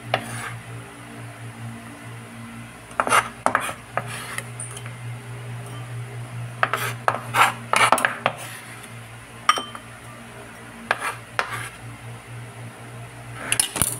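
Ingredients for steamed tilapia are stirred together in a metal bowl, with a utensil clinking and scraping in irregular bursts over a steady background hum.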